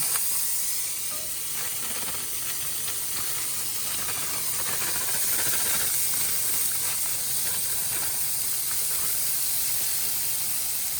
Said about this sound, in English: you can see when it steam dies down how much darker that roux gets after you add in the frozen vegetables.